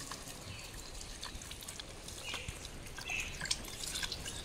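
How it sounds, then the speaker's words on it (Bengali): Bonny, a pet, laps water with soft, irregular drips and small wet splashes, close and quiet with no voices. "দেখো জল খাচ্ছে।"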